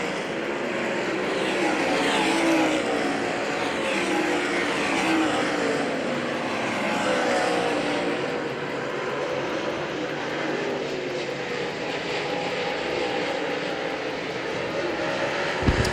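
Race cars on the Hagerstown Speedway dirt oval produce a continuous, loud engine roar that swells and eases slightly as the field circles during a race.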